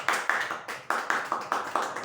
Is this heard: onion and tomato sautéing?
no